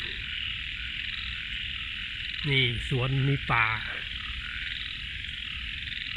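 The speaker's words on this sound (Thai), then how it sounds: "เป็นธรรมชาติที่ สงบร่มเย็นครับมีแต่เสียงกบเสียงเขียดเลยครับ" Frogs croak in a steady chorus from a wooded garden at night in Nonthaburi, near Bangkok. Someone speaks briefly partway through over the constant night sound.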